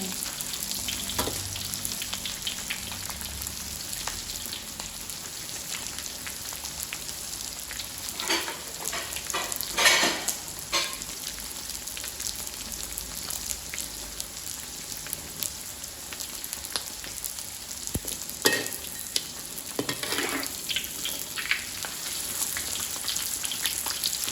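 Dried stingray fish frying in a pan, a steady hiss of oil with crackling bursts throughout, close and fairly loud, with no talking.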